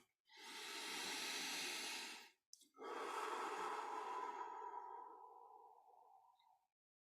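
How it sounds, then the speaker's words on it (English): Two long, deep breaths taken slowly during a calm guided meditation, a full airy inhale followed after a brief pause by a long exhale that fades out gradually, close and alone. "we'll just take in a really deep breath"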